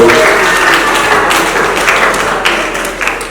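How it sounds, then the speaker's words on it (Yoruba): Church congregation applauding, a dense wash of hand claps that stays loud and steady with slight swells, close and filling the room, with a voice faintly under it. "Ẹ pàtẹ́wọ́ dáradára o"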